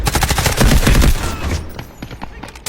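AK rifle fire in a multiplayer war game rattles loudly in dense automatic bursts, layered with other game noise, tapering off toward the end.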